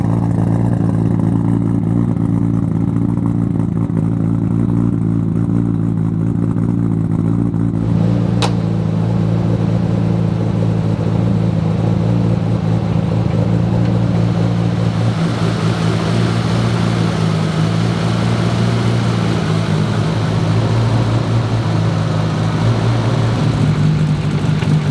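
A turbocharged 1100-horsepower right-hand-drive Honda S2000 heard from inside the cabin, its engine droning loud and steady with a low rumbling tone that rises and shifts as the car accelerates, with no talking.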